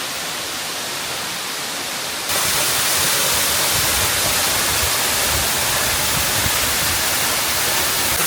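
Broad, steady roar of a mountain waterfall in the Bohinj backcountry, heard up close from beneath the falling water; the rushing sound swells noticeably louder partway through and then holds constant, with no voices.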